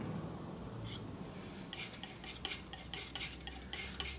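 Palette knife scraping and mixing ultramarine blue and magenta oil paint on a palette, a run of close, crisp scrapes and taps that pick up pace toward the end, heard alone.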